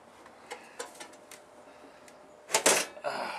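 A plastic side panel on an early toolless computer case with thumb screws pops off with a sharp loud clatter near the end, after a few lighter clicks and handling taps.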